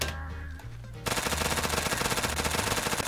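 Rapid automatic gunfire from the video game Phantom Forces bursts in after a second of quieter game sound, a dense, loud, continuous stream of shots.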